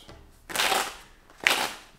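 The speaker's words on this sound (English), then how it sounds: "Let's get two more shuffles." Tarot cards are shuffled in two quick riffling bursts about a second apart, each a crisp close rustle that fades out between them.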